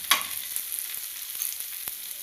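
Masala akki rotti cooking on a pan over low flame, a faint, even crackling sizzle with a sharp tap at the start, close and without talk.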